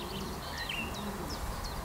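Racing pigeons of the One Love Race line cooing and calling softly, brief wavering coos repeating over a steady background hiss, fairly faint.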